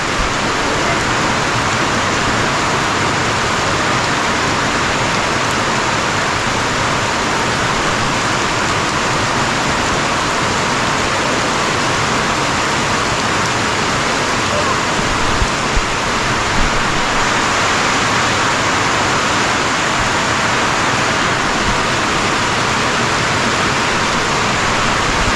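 Continuous rushing water, a steady broadband wash like a strong flow or cascade, loud and unbroken for the whole stretch with no voices.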